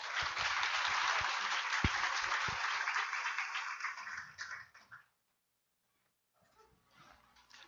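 An audience claps for a speaker at a Marxism 2018 conference session on sexual violence, dense applause filling the first five seconds and then fading out, followed by a brief quiet and faint low sound.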